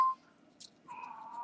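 A phone notification chime rings out as a single steady electronic tone, close and fairly loud, after a brief soft click and a short quiet pause, with no talking.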